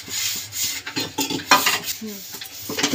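A spoon scrapes and stirs oil around an empty kadai on a gas stove. The metal-on-metal rubbing comes in irregular close strokes and scrapes, and there is no speech.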